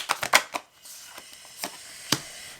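Oracle cards drawn from a deck, a few soft close papery snaps and slides in quick succession followed by quieter single flicks, with no talking.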